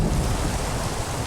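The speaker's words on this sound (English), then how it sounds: "I think I'll just listen to the rain and the thunder" Steady heavy rain with a deep rumble of thunder in Minecraft (TerraFirmaGreg), a dense continuous wash of sound with no voices.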